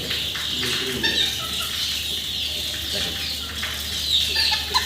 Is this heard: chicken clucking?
yes